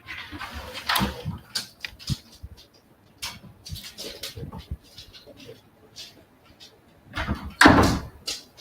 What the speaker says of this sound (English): I'm just going to let my dog in as she's scratching at the door